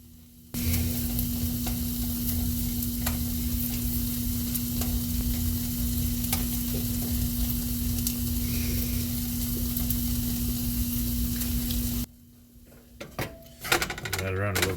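Small chunks of meat sizzling in a pan for a breakfast stir fry, a loud steady hiss for most of the length that cuts off abruptly, then brief quiet handling sounds near the end.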